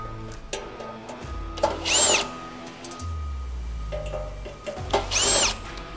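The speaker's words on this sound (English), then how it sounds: "Getting a drill will make your life a lot easier." A power drill backs out Phillips head screws from the shroud of a VSV-100 oil-lubricated rotary vane vacuum pump, with short bursts of motor whine and rising pitch between pauses and handling clicks, close up.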